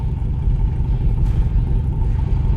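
A 1964 Corvette coupe idles close by on a hot day, a loud, steady low rumble that holds without pauses for the whole stretch.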